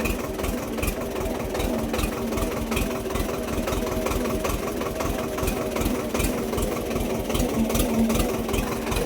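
A tractor engine runs steadily at close range on a muddy, potholed rural road, its low rhythmic chugging and knocking continuing without pause and with no talking.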